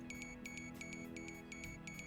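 Quiet electronic beeps from a metal detector in the video game Zero Hour repeat in quick double pulses, a steady rhythmic pattern over a low hum.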